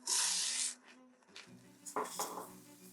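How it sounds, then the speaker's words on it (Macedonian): Red lentils sauté briefly in hot oil in a pot with chopped onion, carrot and tomato paste. A sharp burst of sizzling opens the moment and quickly dies down into soft scraping and stirring knocks. "Кратко подпржуваме"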